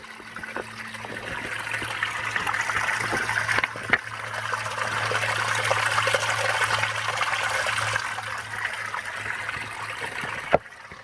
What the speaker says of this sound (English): I hear water running under the rocks here.